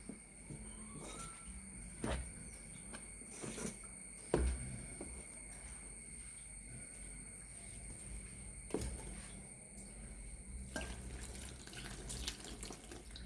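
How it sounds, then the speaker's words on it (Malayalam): Water is poured into dough being kneaded with turmeric powder, making a faint trickling, tap-like water sound with a few soft knocks and thuds nearby. "കുറച്ച് വെള്ളം ഒഴിച്ച് ഇതാക്കാം കേട്ടോ"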